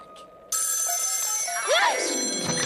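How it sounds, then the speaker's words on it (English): A telephone bell rings loudly and continuously in a cartoon haunted house, an electric trill that starts abruptly and persists throughout, with a brief sliding whistle-like tone partway through. "That was a tantalizing tintinabulation."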